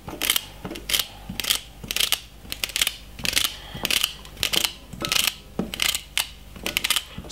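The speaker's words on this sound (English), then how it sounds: "We'll just cut up some celery inside of it." Celery stalks being chopped with a knife on a board for a salmon salad, giving a steady run of sharp, crisp cuts at an even rhythm, close and fairly loud with no talking.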